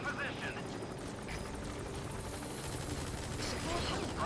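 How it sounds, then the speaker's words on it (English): A support helicopter in the video game Metal Gear Solid V: The Phantom Pain gives a steady, dense rotor and engine roar throughout, with faint scattered gunfire and game sounds mixed in. "Support helicopter. Prioritizing elimination of enemy threats."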